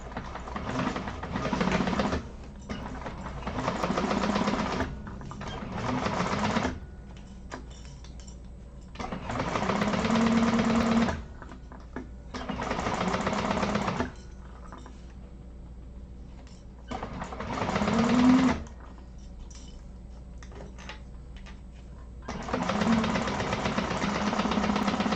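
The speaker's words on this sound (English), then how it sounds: "So I'm going to chain sew these together" A sewing machine chain-sews handbag pieces with a quarter-inch seam allowance. It runs in repeated whirring stretches of a few seconds each, separated by short near-silent pauses, close and steady throughout.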